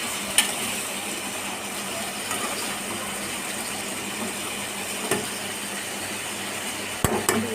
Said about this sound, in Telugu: ఇప్పుడు పొటాటోలు వేసుకోవాలి. వేసుకుని అవి కూడా బాగా కలిపి ఫ్రై చేయాలి.